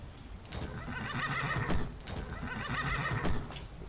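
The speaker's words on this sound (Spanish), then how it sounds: "Y aquí está mi caballo." Skyrim horse whinnying twice in a strong, close neigh, each cry riding over steady clip-clopping hooves, with no talk.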